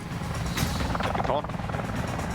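A rescue helicopter hovers over a mountain ledge about 1,200 metres above sea level, its rotor and engine roar loud and continuous, with a voice talking over it.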